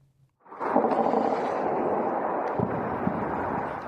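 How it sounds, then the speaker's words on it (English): A sustained, heavy rumbling roar rises abruptly and stays loud, with a few deeper thuds breaking through near the end, like distant explosions, heard around Tehran, Iran's capital. "Explosions heard around the Iranian capital."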